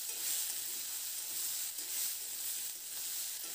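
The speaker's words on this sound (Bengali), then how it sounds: "সবজিগুলোকে মিডিয়াম ফ্লেমে খুব ভালো করে নাড়াচাড়া করে লালচে রং ধরা পর্যন্ত একটু ভেজে নেব" Vegetables fry in a pan over a medium flame for a spinach dish, giving a continuous, even sizzle and hiss with no voices.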